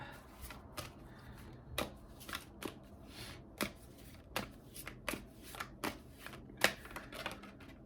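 Tarot cards being shuffled for a psychic reading, a steady run of soft riffling and sharp snapping flicks, close up and fairly quiet, with no talking.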